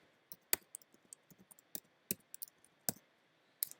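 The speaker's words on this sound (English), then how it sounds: "So I'm just going to start typing" Typing on a computer keyboard while working in Photoshop, with quiet irregular key clicks and a few sharper, louder key strikes spread across the stretch, close and alone.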